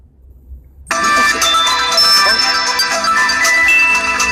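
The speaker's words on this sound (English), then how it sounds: "That's my alarm that's set every morning" A phone alarm abruptly starts after a near-silent moment and keeps ringing loudly with a repeating bright electronic melody until the end.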